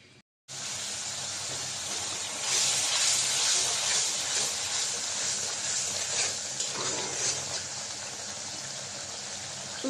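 Garlic paste, turmeric, chili and coriander powders with salt frying in a pan as Bengali spices are sautéed, giving a steady broadband sizzle that swells louder in the middle and continues without any talking.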